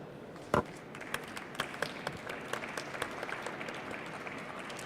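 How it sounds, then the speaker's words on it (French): An audience applauds at the Immotissimo 2017 Innov'Immo award ceremony, steady moderate clapping from a mid-sized crowd with one sharp bang near the start and scattered distinct claps throughout. "On peut encore l'applaudir"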